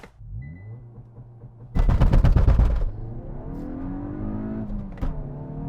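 A Hyundai i20N, VW Polo GTI or Ford Fiesta ST hot hatchback idles, then launches hard on launch control with a loud crackling burst before its engine settles into a rising pull with a gear change.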